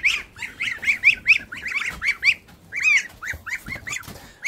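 Geese honk repeatedly in a rapid, overlapping chorus of nasal calls, close by and fairly loud, with no talking.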